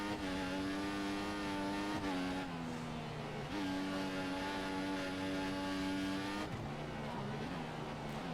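A Formula One race car in the F1 2014 video game howls continuously at high revs, its engine pitch climbing and then dropping sharply at several gear shifts, loud and steady with no speech.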